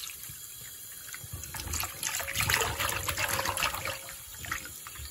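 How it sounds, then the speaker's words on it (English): Cold tap water runs over acorns being rinsed and agitated to wash out tannin, a steady close gush and trickle with splashing that swells slightly midway, with no talking. "It just took a couple minutes to rinse out the last of the tannin, agitate them a bit, and it starts to run clear with cold water."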